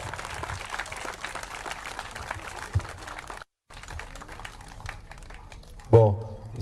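Faint, distant crowd applause at a silent march in Guadeloupe, a thin crackling patter over a quiet outdoor background that drops out briefly before resuming with a soft voice.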